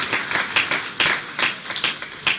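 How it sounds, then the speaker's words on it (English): An audience at the opening ceremony of the UWI Games 2017 claps for a sponsor, bursts of fairly close handclaps rising and falling in uneven pulses over a few seconds. "Can we have a round of applause for Digicel, please?"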